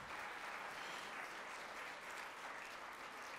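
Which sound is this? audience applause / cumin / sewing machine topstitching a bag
audience applause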